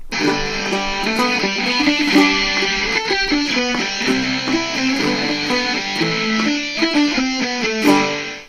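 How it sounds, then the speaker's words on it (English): Cigar box guitar with a P90-style soapbar pickup played through heavy distortion, a gritty, sustained riff of repeated chords and slides, loud and continuous with no voices. "And now here it is with a little distortion."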